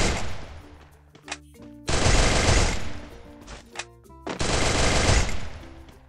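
Bursts of automatic gunfire from a weapon in the video game Free Fire, two long loud volleys separated by a pause with scattered single shots, no talk.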